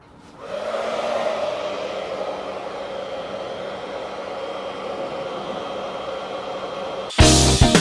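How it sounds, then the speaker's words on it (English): A hair dryer blows steadily for about seven seconds, warming the adhesive behind a badge on a Ford Fiesta ST, close and even in tone, before a brief louder knock or handling noise at the end. "And then we got to warm up the badge with the hairdryer to make the adhesive nice and sticky."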